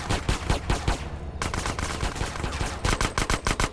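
Rapid automatic gunfire from a shootout in the video game GTA San Andreas, loud, dense bursts of shots in quick succession with a brief lull midway before the firing resumes.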